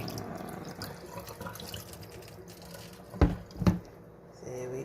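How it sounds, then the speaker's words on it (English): Water runs from a tap into a kitchen sink as rice is rinsed, a steady soft splashing with two brief louder sloshes near the end. "This is the rinsing station of rice."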